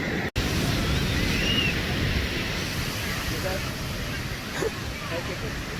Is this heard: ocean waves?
yes